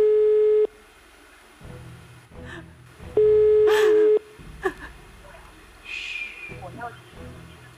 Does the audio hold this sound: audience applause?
no